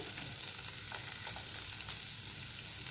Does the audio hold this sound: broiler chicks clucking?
no